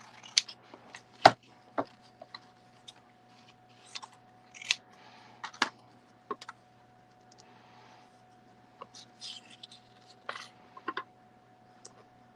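Scissors snipping through paper cards at a table, producing scattered sharp clicks and short cutting bursts close to the microphone over a faint steady hum, with quiet pauses between cuts.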